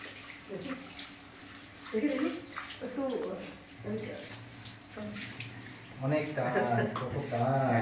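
Water runs and splashes while greasy kitchen utensils are scrubbed and rinsed, a continuous close wash sound under frequent talking.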